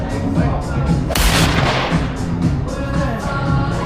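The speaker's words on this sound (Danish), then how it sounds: "Aller sidste skud" One loud, close gunshot cracks during a long-range shooting session, its boom ringing out over steady background noise and faint voices.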